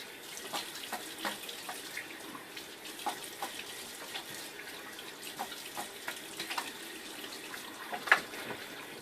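Tap water runs into a sink to rinse a razor partway through a wet shave, a steady soft hiss with faint splashes and drips throughout.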